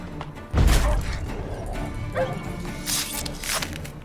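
Dogs in The Witcher 3 give a sudden loud bark amid combat with necrophages, followed by a lower rumbling game soundscape with a few fainter yips and thuds.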